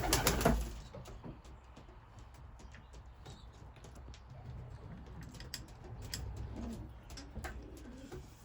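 Racing pigeons coo softly inside a dry loft, faint low murmuring calls with scattered light clicks and taps of birds moving about, distant and quiet throughout.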